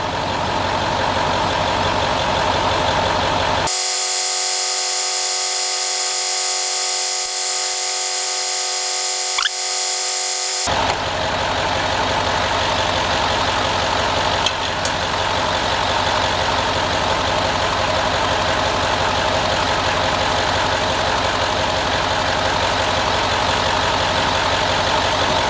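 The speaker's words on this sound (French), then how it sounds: "J'arrête le moteur." Range Rover Sport engine idles steadily in a workshop during a 6HP26 transmission filter change, a continuous close mechanical drone with a brief interruption partway through.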